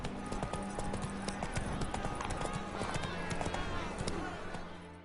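Horse hooves trot in a steady clip-clop rhythm through a game scene from The Witcher 3, set against constant background game audio, music and ambience, with some speech-like voices in the mix.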